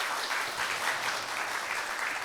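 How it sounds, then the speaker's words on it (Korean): Audience applause at a youth and regional development talk concert, steady and sustained crowd clapping filling the room without a break, moderately loud and fairly close. "박수 한번 부탁드릴게요."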